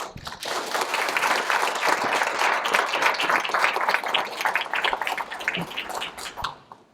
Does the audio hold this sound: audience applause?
yes